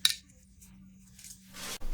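Scissors snip through crepe paper while cutting flower petals, a brief crisp cut at the start and a longer rustling slice near the end, close and alone.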